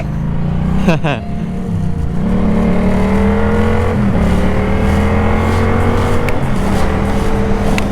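A Yamaha MT-07 motorcycle with a short exhaust fitted with a dB killer rumbles steadily up close, revving briefly near the start with a deep, throaty exhaust note that holds at idle throughout.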